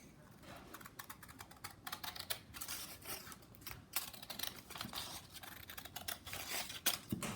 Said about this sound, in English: So we're gonna be taking our big ginormous scissors and cutting it.